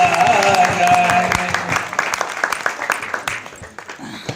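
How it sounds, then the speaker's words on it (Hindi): An audience at a Hindi poetry recital breaks into applause, dense clapping that swells over a fading tone and then thins into scattered individual claps as it dies away. "मिलके सब ताली बजाओ तो मजा आ जाए"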